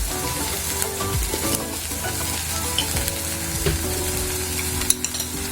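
Beef brain frying in oil with green chilies and a pinch of chili powder, a continuous close sizzle with occasional stirring scrapes, steady and moderately loud, with no talk.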